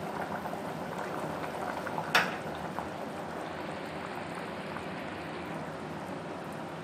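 Eggplant and chickpea kulambu bubbling steadily in a pot, with a continuous close, soft boiling hiss and a brief sharp clink partway through, no speech.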